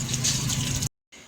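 Water runs steadily from a household tap, a dense continuous splash that cuts off abruptly, then resumes more faintly after a brief pause.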